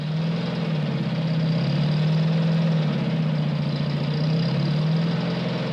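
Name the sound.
bulldozers leveling a site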